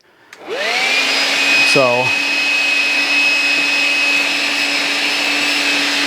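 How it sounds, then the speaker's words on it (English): Milwaukee M12 cordless vacuum sucking up debris, a loud steady whine with a high tonal hum, briefly rattling as clogged bits pass through; a single short word is spoken at the start. "I'm just vacuuming some of that up."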